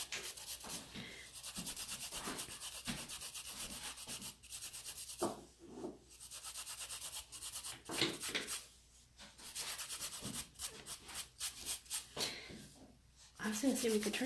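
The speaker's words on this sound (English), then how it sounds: "I'm just lightly buffing the surface of her nail, being sure not to over buff it." A coarse nail buffer rubs lightly across the surface of a fingernail during a gel polish manicure, giving soft scratchy strokes that come in short repeated bursts. People talk over the buffing for much of the time.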